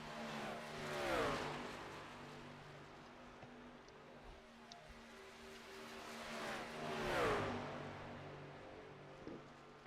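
Race cars at Las Vegas in an ARCS race pass by twice, each a loud engine roar rising and falling with a Doppler sweep, over a steady background drone of other engines.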